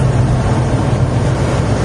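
Steady, loud rushing roar of wind buffeting a moving car with windows partly open, low and constant with no pauses and no voices.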